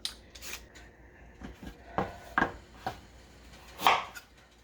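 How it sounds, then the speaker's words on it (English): Knife blade strikes a cutting board several times in irregular, close, crisp chops as carrots are cut into large pieces for a beef stew, with a louder chop near the end and no talking. "I'm going to cut the carrots yay big."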